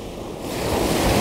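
Ocean waves break and surge onto the shore at Durdle Door, a steady close wash of surf that swells louder toward the end, with some wind rumble on the microphone.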